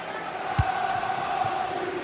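A football stadium crowd during a Spurs match makes a broad, steady roar that builds gently, sustained in the background with a few dull thuds.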